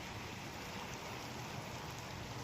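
Heavy rain pours down in a village where the shops are shut, a soft, even, continuous wash of noise heard from shelter at some distance, with no other sounds standing out.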